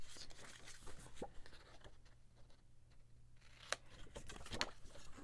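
Scissors trim the sides of folded paper, a quiet scattering of snips and crisp cuts with small paper rustles in between, close and unaccompanied.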